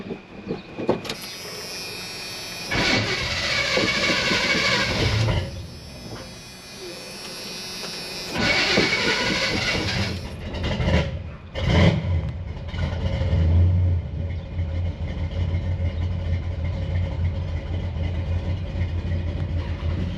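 A 1986 Chevy C10 shortbed truck cranks with a whirring starter, catches and settles into a steady rumbling idle, close and loud throughout with no talking over it.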